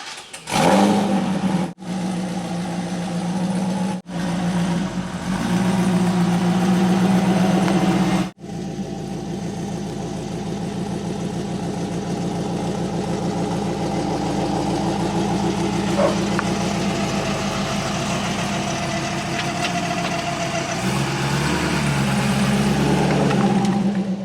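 A C5 Corvette with a Curt tow hitch installed drives through a neighborhood, its engine humming steadily with a few revving surges and brief gaps, heard from inside the car.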